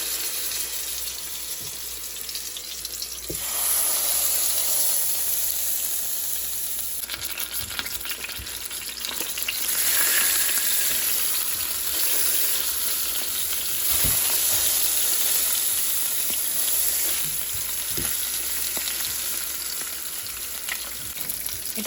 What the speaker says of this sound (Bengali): তেলটা গরম হয়ে গেলে এবার আমি শাংটা দিয়ে দিচ্ছি।